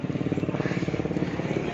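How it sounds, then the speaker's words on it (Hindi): Helicopters flying over the Kedarnath trekking route near Sonprayag, a steady rhythmic rotor thrum with pulsing low beats that holds level and fairly close throughout. "हेलीकॉप्टर जा रहे हैं।"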